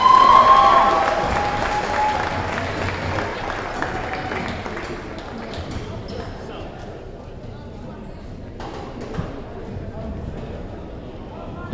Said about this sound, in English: Let's give them one more round of applause to show our appreciation.